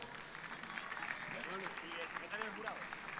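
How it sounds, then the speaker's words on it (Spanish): Applause for a district councillor and a festival committee president at a city festival proclamation in Las Palmas, a steady wash of clapping from a crowd with voices mixed in. "Aplauso para ambos."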